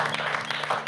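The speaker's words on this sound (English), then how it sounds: "Let's give him a round of applause" A studio audience at a children's quiz show claps briefly and steadily for a prize winner, with a voice faintly mixed in.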